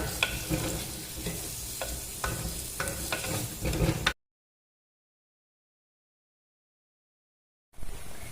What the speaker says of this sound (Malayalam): ഈ വെളിച്ചെണ്ണ ചൂടായിലേക്ക് ഈ വെല്ലുള്ളി ഇടുന്നുണ്ട് ഇതൊന്ന് ചെറുങ്ങനെ വഴറ്റുക